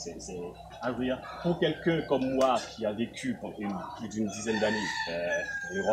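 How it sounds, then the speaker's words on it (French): Roosters crow on a chicken farm in Africa, a few calls rising over steady nearby French conversation that runs through the whole stretch. "c'est le bruit des coqs qui me réveillent le matin"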